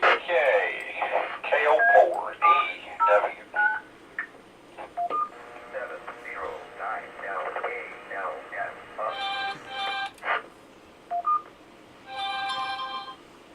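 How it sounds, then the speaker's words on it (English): Radio repeaters link with short electronic tone beeps, heard as clipped tonal bursts near the end after a stretch of a voice talking over a radio channel. "So you're going to hear some beeping. That's going to be the repeaters linking."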